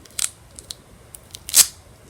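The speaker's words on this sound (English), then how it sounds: "then use your handy dandy scissors" Handy scissors snip through material during an easy DIY computer craft, giving several short, crisp cuts spread across a quiet room, with one louder, longer snip near the end.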